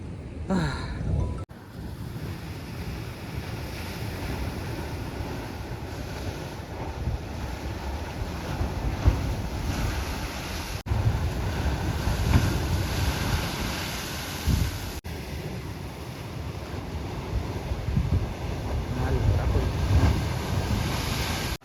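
Sea waves wash around a boat near an island, a steady churning roar mixed with heavy wind buffeting the microphone and brief breaks in the sound.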